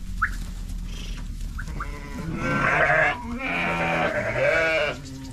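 Sheep bleat on a farm in Negrilești, Bistrița-Năsăud, with a few short calls early and then several loud, drawn-out bleats close by. A little quiet background noise sits underneath.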